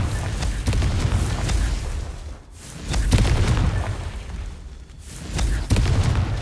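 Repeated Confringo fire blast spell explosions in Hogwarts Legacy, a few loud booming bursts separated by short lulls, with a broad rumbling tail after each blast.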